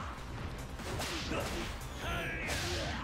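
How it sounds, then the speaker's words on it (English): A sumo slap attack lands in Yakuza Kiwami, sharp whip-like swishes and smacking hits in quick succession, fairly close, with game effects layered over a busy background and no clear talking. "Let's end this with sumo slap."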